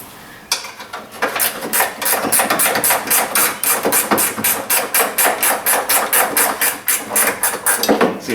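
A wrench turns bolts while an A/C condenser is removed from a Pontiac Torrent or Chevrolet Equinox, giving a close, loud run of quick, evenly spaced ratcheting clicks, about three or four a second, with no voices.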